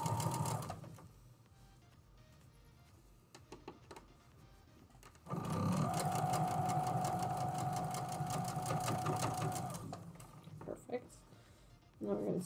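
A sewing machine joins fabric seams in a long, loud continuous whir lasting several seconds, framed by quieter handling noises and brief talking before and after.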